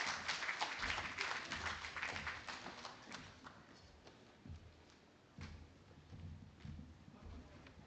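An audience applauds a retired Rear Admiral at a ceremony marking the ninth year of the arbitral victory. The clapping is dense and fairly close at first, then thins out into scattered claps.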